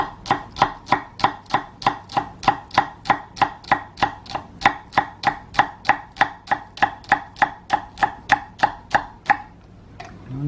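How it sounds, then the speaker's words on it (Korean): Rapid, steady knife chopping of green onions on a cutting board, about three crisp strokes per second, close and clear, with no talking. "파를 썰어주고"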